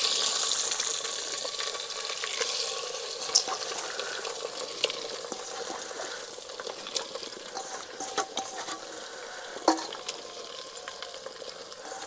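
Mutton pieces go into a pot of yogurt for a mutton handi, a faint wet sizzle and stirring with occasional soft clinks and splashes, steady and quiet throughout.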